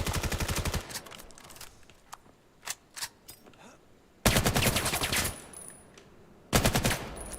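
Rapid automatic gunfire in the VR shooter VAIL, loud bursts at the start, then scattered single shots, then two more sustained volleys close by.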